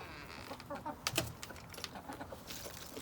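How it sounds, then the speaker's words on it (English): Faint, soft clucking from hens pecking at a treat, with a few scratchy clicks and pecking taps, quiet and close, no talking. "it's time to give the chickens a treat"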